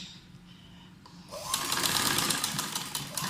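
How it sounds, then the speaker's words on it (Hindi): A sewing machine stitches cloth in a beginner stitching class, a faint hum at first and then a loud, rapid, steady whirring run of stitching close by. "पहले हमने किया डबल सिलाई, इसके बाद इसके साथ साथ सिलाई लगानी है।"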